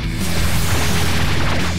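A loud, sustained roaring explosion effect from a Power Rangers power blaster, thick and broadband, filling the whole short moment at close range and fading only slightly toward the end, with no voices over it.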